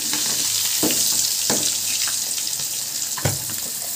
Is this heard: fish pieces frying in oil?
yes